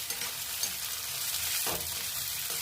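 Onions fry in hot oil in a kadai while being stirred, a steady close sizzle with soft scraping strokes of the spoon, no talking.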